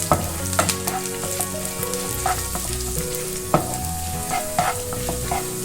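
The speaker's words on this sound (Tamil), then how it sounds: "கருவேப்பிலை, கொஞ்சமாக கேஷ்யூஸ். இது கொஞ்சம் வதங்கட்டும்" Curry leaves and cashews sauté in hot oil in a pan on a simmer while Ven Pongal is being made, with a steady close sizzle and occasional stirring scrapes and clinks throughout, no talking.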